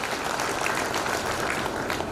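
Loud, close audience clapping fills the hall at a stress-relief talk in Srinagar, Garhwal, a dense continuous burst of many hands without pause.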